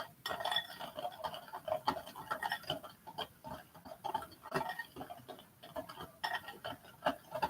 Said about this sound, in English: So just whisk until it's creamy, or it turns like this color